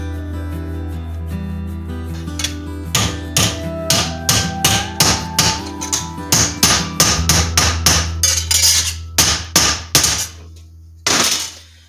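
A hammer folds sheet metal flanges over on a Dakota pickup bed corner used to rebuild a 1971 Travelall: about twenty close, sharp metallic strikes that come quicker toward the end, then a final blow after a short pause.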